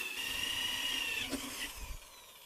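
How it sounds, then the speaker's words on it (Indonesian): A power drill with a 38 mm hole saw bit cuts holes for a homemade vertical hydroponic tower, a steady whining grind that tapers off near the end. "lanjut kita lubangi menggunakan mata bor hole saw seperti ini yang 38 mili teman-teman"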